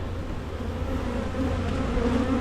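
Honey bees buzz at a backyard hive during a queen introduction, a dense, steady close-up hum of many wings that swells slightly in the final second with no voices.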